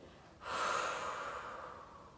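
A single close, soft breath during a Pilates mat exercise: one airy inhale or exhale swells quickly and then fades over about a second and a half, faint and alone.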